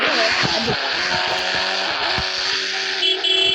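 In the Indian Bikes Driving 3D video game, a car crashes and flips, producing a continuous burst of game engine noise with repeated thuds and scraping tire sounds, loud and close, without speech.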